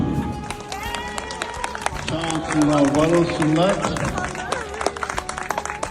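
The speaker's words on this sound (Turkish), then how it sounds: "Ayrıca burada Asenalarımıza gerçekten büyük bir alkış istiyorum." An outdoor crowd applauding at the Colmar spring festival picnic, dense clapping under a speaker's amplified voice, with bursts of crowd noise and calls rising in the middle.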